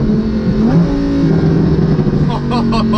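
A tuned Lamborghini engine screams near redline, climbing in revs and snapping through an upshift, loud and close with a harsh mechanical edge, a voice faintly audible beneath.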